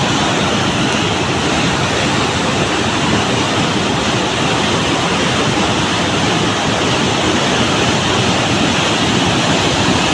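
Loud, steady roar of rushing flood water in a river fills the whole clip, a constant broadband torrent with no breaks and no voices.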